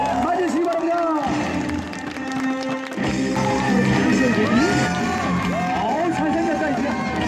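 A large crowd applauds and cheers at a Nexen Heroes vs LG Twins baseball game in the stadium, a steady roar of claps and voices running throughout, with someone talking over it.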